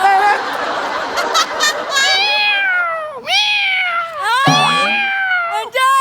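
A person imitates a cat, giving a few drawn-out, wavering meows in a comedic stage setting, loud and close with a brief chuckle-like burst before them.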